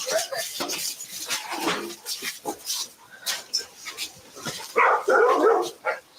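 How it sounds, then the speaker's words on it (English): Three dogs bark in short, irregular bursts and yelps indoors in a house, with clattering sounds and people talking throughout, ending in a louder noisy scuffle. "The three dogs are removed from the house,"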